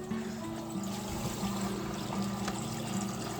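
A steady stream of aquarium filter water pours continuously onto a plant at close range, a soft trickling wash with a faint low hum underneath.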